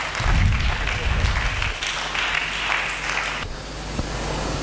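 A church congregation claps together in steady, dense applause at close range, a continuous wash of hand claps that carries through the whole stretch and grows slightly thinner toward the end.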